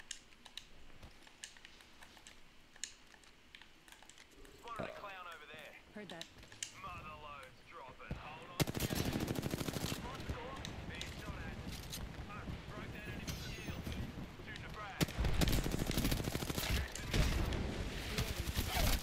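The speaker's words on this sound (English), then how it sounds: "I'm taking shots. Taking fire." Rapid gunfire and combat noise in the battle-royale shooter Apex Legends, loud bursts of shots running through most of the stretch and surging sharply halfway and again near the end.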